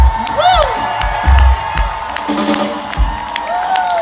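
A concert crowd at Harrah's Stir Cove in Council Bluffs, Iowa cheers and claps loudly, with whoops and whistles rising over dense, sustained applause from a large audience at close range.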